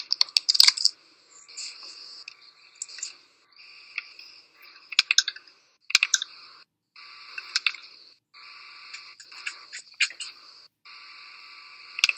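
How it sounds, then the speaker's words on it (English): Bursts of keyboard typing, quick clusters of keystrokes separated by short pauses, close and crisp with no voices. "So let's all just read and start typing."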